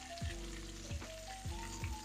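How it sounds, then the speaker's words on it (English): Meatballs browning in a skillet for BBQ meatballs give a steady close sizzle, with several short scraping or stirring bursts at regular intervals and no voices. "I just have them frying here in the skillet"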